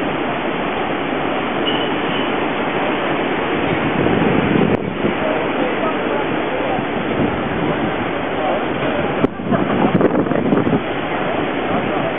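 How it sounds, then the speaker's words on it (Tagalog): Ocean waves wash and roar steadily below a cruise ship, a dense continuous rush of surf with wind buffeting the microphone and a few brief knocks. "Kunan ko muna yung alon."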